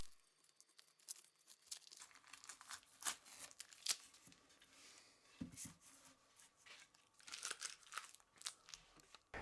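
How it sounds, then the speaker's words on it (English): Masking tape peeled off a finished guitar neck gives faint, close crinkling and tearing rustles in irregular bursts over nearly ten seconds. "So now I can remove the masking tape."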